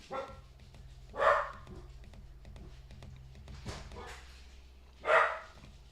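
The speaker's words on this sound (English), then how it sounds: "What's he barking at?" A dog barks in short bursts, one bark early and another near the end, heard at moderate distance over a steady low hum, with no speech.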